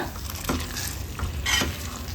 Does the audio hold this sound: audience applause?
no